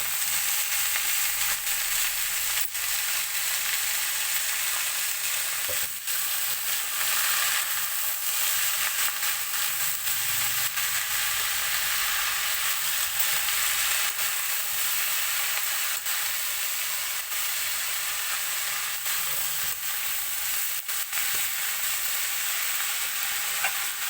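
Amaranth leaves (thota kura) with a little turmeric are stirred in a hot pan, a loud, dense sizzle and hiss running continuously with scraping stir strokes and no talk.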